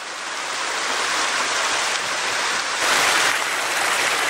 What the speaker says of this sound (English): Because there's a cool waterfall.